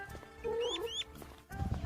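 A hen gives a brief run of close, tonal clucks with rising and falling squawks over about two seconds.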